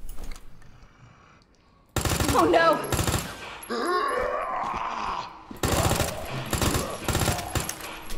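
Gunfire in the video game Resident Evil 2 comes as loud bursts of rapid shots with a groaning creature sound between them, after a quiet start.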